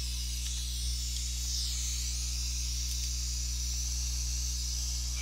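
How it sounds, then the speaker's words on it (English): An air blower clears very fine dust from a scroll saw project with a continuous airy hiss over a constant low hum. "I'm having to use the blower to assist the Scrollnado."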